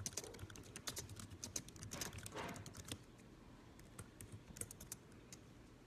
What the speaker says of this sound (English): I'm gonna type to you real quick.